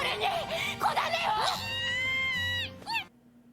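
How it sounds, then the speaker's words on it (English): An anime cat meows several times in quick rising and falling cries, then holds one long drawn-out wail before a final short mew, fairly close and clear with no speech. "This is not Inukai's cat"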